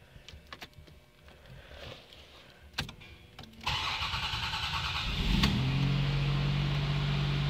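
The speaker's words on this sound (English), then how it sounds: "Let me start the car." A Buick Riviera car engine starts after a few clicks and taps, then the engine catches and settles into a steady idle.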